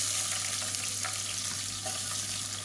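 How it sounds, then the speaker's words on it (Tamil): Whole spices and sliced onion fry in hot oil for street-style veg biryani, giving a steady, close, crackling sizzle that continues without pause and with no voices. "இப்போ பாருங்கள் மசாலா வந்து பொரிய ஆரம்பிக்குது"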